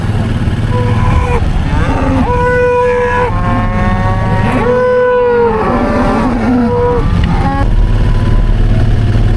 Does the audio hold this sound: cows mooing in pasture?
yes